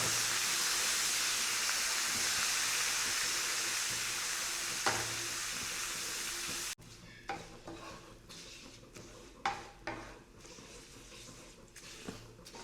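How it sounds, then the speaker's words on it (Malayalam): Beef curry with biryani masala sizzles steadily in a pan at first, then the hiss cuts off and a spoon scrapes and knocks against the pan in several irregular strokes, close and moderately loud, with no talk. "എന്നതിന് ശേഷം നല്ലോണം ഇളക്കി കൊടുക്കുക"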